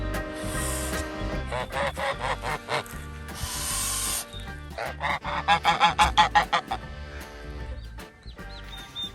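A homestead goose honks repeatedly in rough, rasping bursts, with long breathy hisses between them, loud and close.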